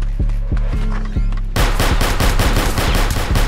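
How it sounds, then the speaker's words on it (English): Gunfire in a Roblox hood game: several separate loud shots spaced about a third of a second apart, then a dense rapid burst of automatic fire that continues to the end. "Yeah, those are warning shots."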